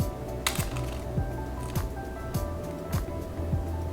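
Small quail scissors crack quail eggs one after another, faint crisp snips and shell crunches repeating at a quick, even rhythm with little else around.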